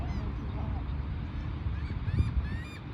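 Seabirds calling at a beach, with honking, goose-like cries rising over a steady background of wind and surf, a few calls clustered near the end at moderate distance.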